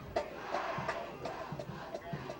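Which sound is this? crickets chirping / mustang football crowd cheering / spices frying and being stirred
mustang football crowd cheering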